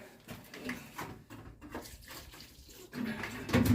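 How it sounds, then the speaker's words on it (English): Water poured into a container holding a little admix in the bottom, a steady splashing pour that swells louder near the end. "There was a little bit of admix in the bottom of this, so what I've done is put some water in it."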